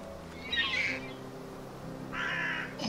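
A crow in the video game The Last Door caws twice, each drawn-out raspy call separated by a pause, set over a low ambient drone.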